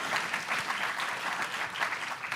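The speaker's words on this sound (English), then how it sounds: "you can clap your hands" Audience applause fills a conference hall at the European Council on Foreign Relations annual council meeting, a steady, dense clapping from a large crowd that stays at an even level throughout.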